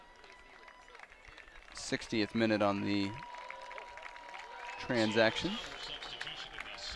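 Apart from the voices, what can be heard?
Seattle fans applauding a substituted player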